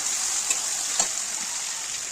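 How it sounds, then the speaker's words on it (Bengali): Onions fry with ginger garlic paste in a pan for chicken kosa, giving a constant bright hiss of oil and a couple of soft stirring taps close by. No talking. "আদা রসুনের পেস্টটা দিয়ে ভালো করে পেঁয়াজের সাথে ভালো করে মিশিয়ে নেব"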